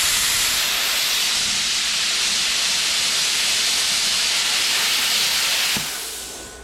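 A CUT-50P pilot arc plasma cutter slices through sheet metal with a steady, loud, close hiss that holds evenly for several seconds, then tapers off near the end after a brief click.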